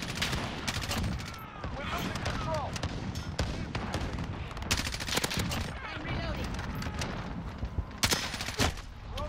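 Gunfire in Call of Duty: Modern Warfare, dense bursts and sharp cracks of shots, some distant, ringing through a busy multiplayer match with other game sounds and voices mixed in.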